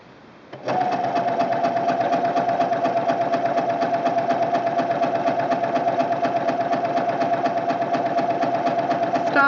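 A sewing machine starts up and runs steadily, stitching forward along the bartack of an extra large buttonhole, its rapid mechanical chatter loud, close and unbroken for several seconds.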